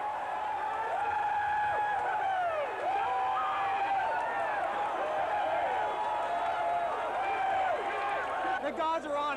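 Festive baseball crowd at a 1989 World Series game in San Francisco, just after an earthquake, keeps up a loud, steady roar of cheering and whistles, with a voice talking over it.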